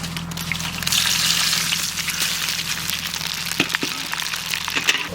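Five-spice, bay leaf and dry red chilli sizzle and crackle in hot mustard oil, a steady close frying hiss with scattered small pops and no voices.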